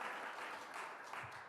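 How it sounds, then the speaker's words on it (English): An audience gives a round of applause at Governor Hochul's event in Buffalo, a soft, distant wash of clapping that stays steady throughout. "let's give a special round of applause to the person who's going to make it all happen"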